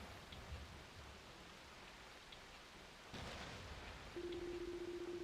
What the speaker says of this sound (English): Only the sound of the falling rain and constant thunderclaps could be heard echoing through the darkness.